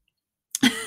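A single short cough, close and fairly loud, right after silence, with a throaty clearing quality.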